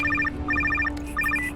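Phone in the horror video game NightCry ringing, repeated electronic trilling bursts in a regular pattern over a constant low hum, clear and close with a faint rumble underneath.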